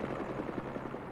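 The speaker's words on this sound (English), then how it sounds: "helicopter's blades" Helicopter blades in the Spider-Man 2 video game, a steady low rotor pulse thumping at a fast, even rhythm throughout, moderately loud with no talk over it.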